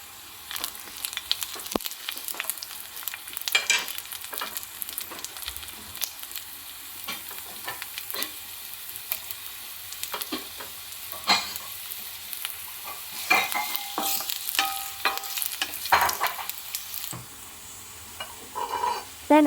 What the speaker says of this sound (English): Oil in skillet. Sauté garlic then ginger until aroma comes out.